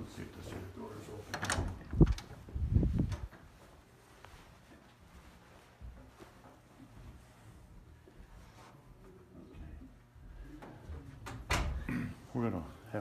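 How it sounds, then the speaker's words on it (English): A door at a Kingdom Hall is tried and opened: a couple of knocking, rattling handle and latch sounds near the start and a louder thud near the end, with quiet room tone in between. "Let's see if this here door is open."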